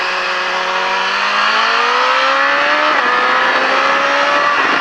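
Car driven hard through a cone course on a track, engine loud and close with a climbing, shifting whine that drops briefly and picks up again as it accelerates between cones.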